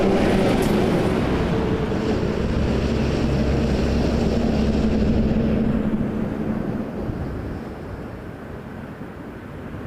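Air France Boeing 777-300ER jet at Toronto airport, a loud steady engine roar that holds strong and then gradually eases off, with no talking.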